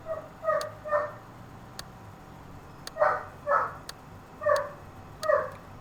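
Dogs barking at a distance, six or so short harmonic barks spaced in loose pairs over a low steady background hum, with no talking.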